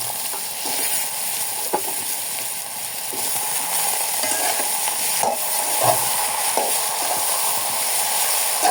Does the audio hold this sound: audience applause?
no